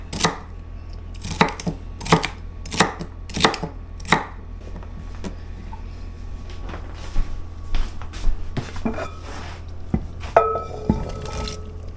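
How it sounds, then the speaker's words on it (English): A knife chops celery on a board, six sharp, evenly spaced cuts at first, then a pause before softer, irregular chopping and light handling clatter. "So I'm going to cut that up now, and we'll add some celery."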